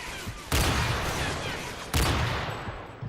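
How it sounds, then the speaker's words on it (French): Two loud bursts of automatic gunfire from an MC weapon in a first-person shooter game's domination match, each a dense, sustained rattle lasting over a second, the second burst starting just before the two-second mark. "quand tu mets une rafale et demie de MC sur un mec"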